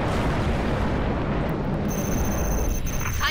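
Gunfire and explosions in Halo Reach: a dense, loud roaring blast of noise that thins slightly partway through, with a sustained high tone joining later.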